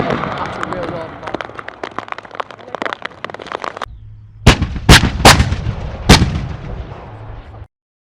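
Live-fire training with Leopard 2 tanks and AS-90 howitzers: a dense run of rapid gunshots followed by a short gap, then several loud, heavy booms echoing over the field.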